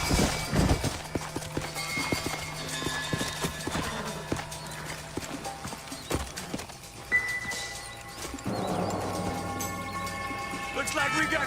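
Horses' hooves clip-clop in Red Dead Redemption as riders slow their mounts, the rhythmic hoofbeats mixed with game music and a brief whinny, while characters talk over the scene.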